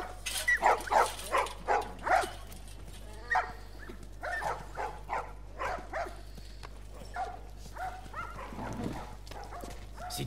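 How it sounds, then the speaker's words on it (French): Dogs in The Last of Us Remastered give a rapid series of sharp yips and barks, close and fairly loud at first, then softer and sparser. A steady low hum runs underneath. "Oh, les petits chiens."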